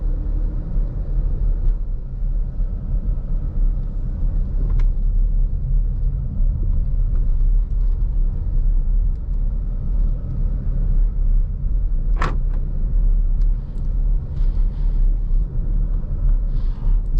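2020 Jeep Grand Cherokee Upland cruising on a road, heard from inside as a steady low engine and tyre rumble that holds throughout, with a brief sharper click partway through.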